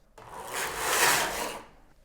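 A Knittax knitting machine carriage slides across the needle bed once, a smooth rising and fading mechanical whirr with a brief rattle, close and fairly loud, with no talking.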